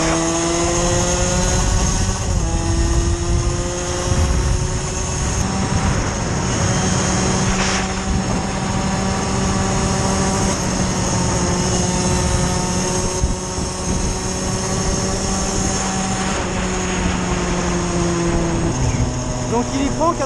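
A 50cc MVT motorcycle accelerates on the road, its engine droning steadily and climbing in pitch, with a gear change near the start and another near the end, loud and close with constant wind noise.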